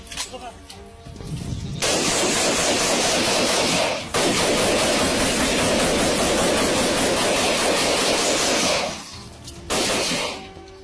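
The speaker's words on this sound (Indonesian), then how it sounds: "Merangkak dan diberondong peluru asli." Live rounds rattle in dense sustained bursts over soldiers crawling through commando training, a harsh continuous crackle that cuts in, breaks briefly, then resumes before stopping, with a voice talking over it.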